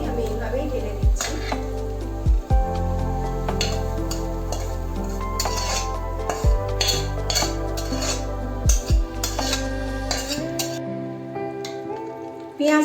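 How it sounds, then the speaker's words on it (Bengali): Chopped onions tipped from a heavy vessel into yogurt chicken cooking in a pot, with metallic scrapes, knocks and clinks of utensil against metal over a steady sizzle and hum, ending in a sharp clank. "আমি এবার এই পেঁয়াজটাকে ঢেলে দেবো ওই মাংসের মধ্যে"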